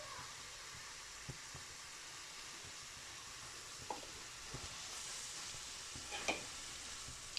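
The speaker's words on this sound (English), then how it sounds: "And we'll just stir all that around" Vegetables with chili, sweet chili sauce and garlic are stirred in a hot pan for a Vietnamese pork dish, giving a steady soft sizzle with a few light utensil scrapes and clicks, faint and alone.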